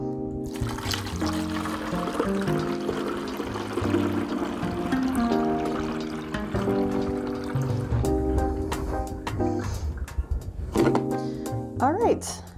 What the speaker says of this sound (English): what I'm going to do is just fill the tank with water,